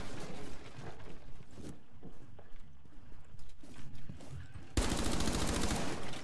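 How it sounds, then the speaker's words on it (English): Several sharp video game gunshots crack in quick bursts, followed by a loud rapid rattle of sustained fire near the end. "I got gunshots from over here."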